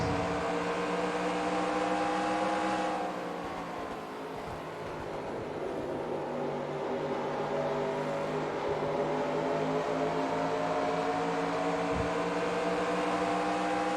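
Race car engine in the NASCAR Racing 2003 simulation game, a continuous loud droning whine that dips briefly as the car slows for a turn, then builds back up and holds steady.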